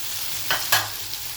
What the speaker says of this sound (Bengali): টমেটোটা গলে গেছে পেঁয়াজটা ভাজা ভাজা হয়ে গেছে